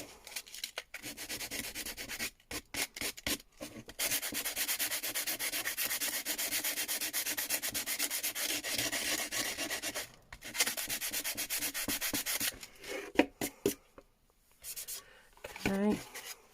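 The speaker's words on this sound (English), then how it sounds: "just rub gently so you don't start rubbing into the paper" Paper being rubbed gently by hand while making a steampunk junk journal box, a steady close scratchy rasp in long continuous passes broken by brief pauses and a few short strokes near the end.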